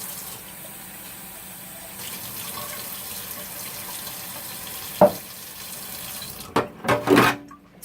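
Water from a sink tap running while something is rinsed, a faint steady flow with a short splash midway and louder gushing bursts toward the end.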